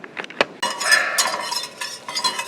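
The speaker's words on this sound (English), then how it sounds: "we're sauteing those onions in the butter now" Onions sautéing in butter in a pan for homemade queso, a bright close sizzle with a few metallic clinks of a utensil against the pan at the start.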